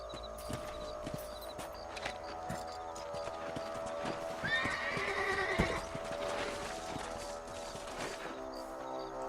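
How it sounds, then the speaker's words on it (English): Horse hooves clip-clopping and a clear whinny in Red Dead Redemption, the footfalls steady and light, the neigh rising midway, over quiet game ambience. "I was gonna try to hitch the horse up there."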